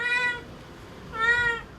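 A cat at an animal hospital gives two anxious meows, clear and close with a pause between them, and no talk over them.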